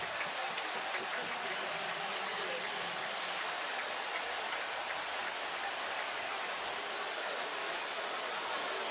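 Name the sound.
stadium crowd noise at football game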